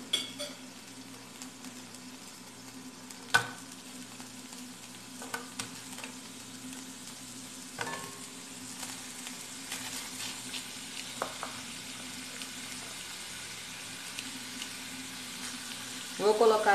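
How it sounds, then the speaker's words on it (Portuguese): Sliced onion frying in a pan for simple pan-fried liver with onions, a steady soft sizzle running throughout, with a few louder clatters and a burst of stirring near the end; no one speaks. "Agora aqui na frigideira, eu vou colocar a cebola."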